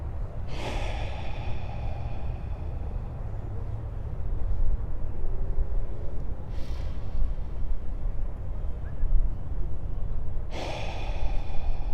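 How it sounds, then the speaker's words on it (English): Slow, deep breaths come in through the nose and leave through the mouth during a guided meditation, with three separate airy exhales spaced several seconds apart over a soft, steady background. "breathe in through the nose and out through the mouth"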